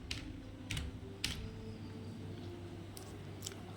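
A few scattered keystrokes tap on a computer keyboard as station names are typed, soft and close in quiet surroundings, with irregular gaps between the clicks.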